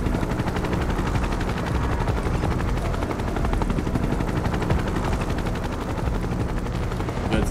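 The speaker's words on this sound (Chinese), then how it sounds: "直升机声音这么近，" Helicopter in the video game Final Fantasy VII Rebirth, a dense continuous rotor thrum heard close and loud throughout, with no other sounds on top.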